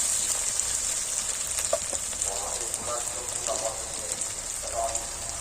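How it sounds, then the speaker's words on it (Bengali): Ginger paste frying in oil in a pan with tomato and sour yogurt, a soft steady sizzle with occasional scraping stirs, close and without talk. "এবারে দেব আমি আদা বাটা দিয়ে এটাকে আমি ভালো করে একটু নাড়িয়ে নেবো"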